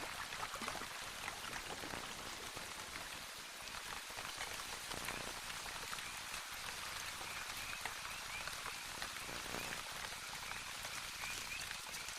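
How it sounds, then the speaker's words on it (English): Steady rain falls through a tropical Caribbean forest at night, a dense continuous hiss of drops on leaves with no voices, holding an even level throughout. "The coming of the rains brought a chorus of calls to the nighttime forest."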